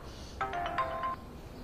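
A mobile phone ringtone plays a short, bright melodic chime of several quick notes lasting under a second, heard alone and fairly faint against quiet room tone.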